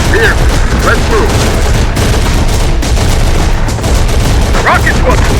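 A launcher fires amid dense, continuous gunfire in Terminator: Dark Fate – Defiance, a loud, unbroken clatter of rifle and machine-gun shots with booming impacts throughout and brief shouted voices.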